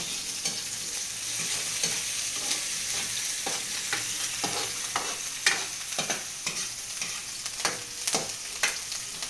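Onions frying in a pan with a steady close hiss, stirred with repeated scraping strokes that come in an uneven rhythm throughout, with no voices.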